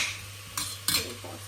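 Biryani masala stirred and mixed in a pan with a spoon, a few short scraping strokes over a low sizzle, close up, with no talking.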